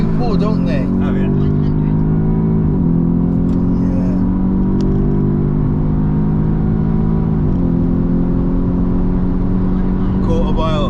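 Audi S3 launching hard from a standstill on a quarter-mile run, four-wheel drive engine revving loud and close with rising harmonics and two clear gear-change dips, voices audible over it.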